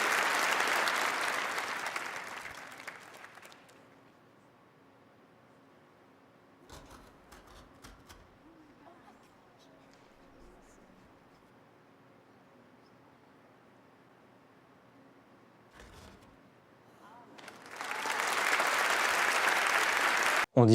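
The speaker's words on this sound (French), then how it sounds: "on a une réaction différente du public, avec des applaudissements" A magic show audience breaks into applause twice: a loud burst at the start that fades out, a long hush with faint small noises, then a second full round of clapping near the end.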